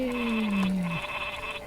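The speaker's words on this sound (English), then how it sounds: "I have sheep here, so bye bye sheep." A single sheep bleats loudly and close in the strategy game Northgard, a wavering cry that slides downward and fades within about a second, followed by faint game sound.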